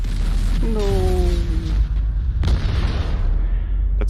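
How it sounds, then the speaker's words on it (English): A deep, loud explosion booms in the space game Mass Effect 2, a low rumble filling the whole moment alongside rising tonal sweeps and a sharp crack near the middle. "That's like a Hollywood-style explosion"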